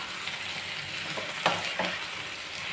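Onions and drumstick pieces sizzling in a pan as they are stirred together, a steady frying hiss with a couple of brief scraping bumps in the middle.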